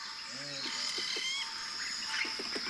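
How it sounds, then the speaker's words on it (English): A great bittern gives a low, hollow booming call, a few deep resonant notes near the start, set against a dense wash of insect and bird chorus in wetland. "This is a great bittern."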